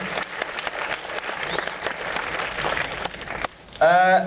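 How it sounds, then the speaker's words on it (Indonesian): Audience at a film festival opening applauding for the organizing team, a dense clapping wash for about three and a half seconds, then a short pause and a burst of voice at the end. "Jadi tepuk tangan buat tim Enough."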